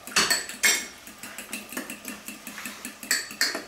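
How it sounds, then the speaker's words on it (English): A whisk clinks rhythmically against a bowl as lemon juice is mixed into a mayonnaise-based burger sauce, giving fast, steady metallic taps at close range with a few louder knocks. "And now we'll just whisk it around."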